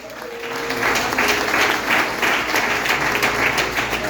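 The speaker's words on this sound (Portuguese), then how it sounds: "Quem está entendendo, aplauso eterno." Church congregation applauding during a family service, a broad wash of clapping from many hands that swells and stays strong and steady, with faint background music or voices underneath.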